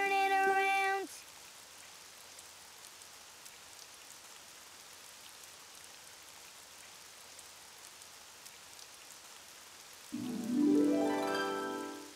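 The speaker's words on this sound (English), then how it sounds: "Oh, it's raining outside." Soft, steady rain patters throughout, with short tonal bursts at the very start and again near the end.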